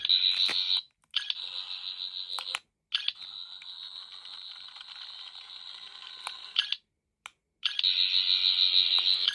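A replica 14th Doctor sonic screwdriver gives a high electronic warbling tone in several bursts with brief silent gaps, like a toy sci-fi gadget effect, loud and close.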